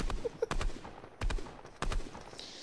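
Gunfire in the video game Fortnite: a few sharp, loud shot bursts spaced irregularly apart, each with a quick decaying tail, standing alone without talk.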